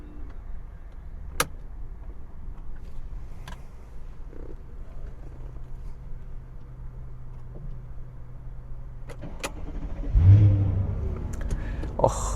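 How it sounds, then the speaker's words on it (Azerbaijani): A Mercedes-Benz E500 sits quietly with faint clicks before its engine cranks and fires near the end, surging loudly and then settling into a close, steady rumble. "Bir dənə maşını xodlayaq sizin üçün."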